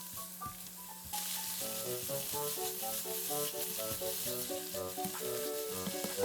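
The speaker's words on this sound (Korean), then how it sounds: "양배추 넣고 볶아줍니다" Shredded cabbage fries in butter in a pan: a steady, close sizzle swells at about one second and holds, with melodic tones running underneath.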